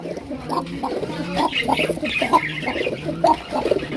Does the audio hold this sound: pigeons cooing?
yes